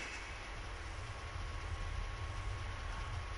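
A train in the video game Dreams slows with its engine idling and brakes applied, a steady low rumbling drone with a faint high whine, continuous and moderately quiet with no speech.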